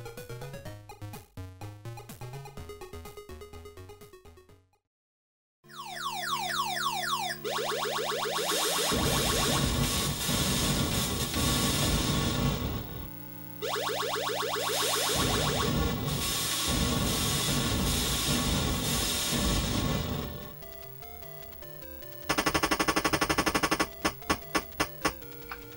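Electronic Missile Command game sounds from an Atari 5200 play on: sweeping descending tones, harsh noisy explosion bursts, warbling beeps and a brief silence, all loud and synthetic.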